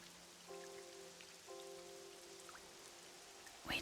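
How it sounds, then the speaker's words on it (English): Rain falling in the video game Pokopia, a soft steady patter with faint game tones over it, quiet and close, ending in a brief louder rustle. "Oh, it's raining."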